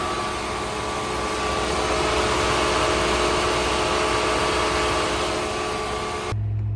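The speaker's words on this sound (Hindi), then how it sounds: "जब इसमें फैन सिस्टम ऑन होता है तो मुझे बड़ा ही अनोइंग लगता है और अंदर तक आवाज आती है" A Tata Nexon EV's battery cooling fan runs at a steady, loud whir with a droning hum. It holds constant for about six seconds, then cuts off abruptly, leaving near silence.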